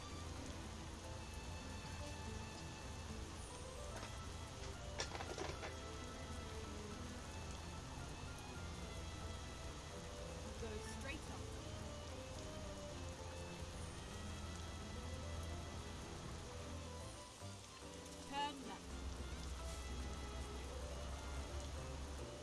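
Steady rain falling on a truck in the game Euro Truck Simulator 2, a continuous close patter on the cab that stays even for the whole stretch, with a low engine hum beneath it.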